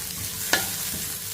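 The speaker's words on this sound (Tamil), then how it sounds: "கொஞ்சம் வதக்கி விட்டுக்குருவோம்" Chopped onion and carrot are sautéed and stirred in a pan, giving a soft, steady sizzle with one sharp scrape of the spoon.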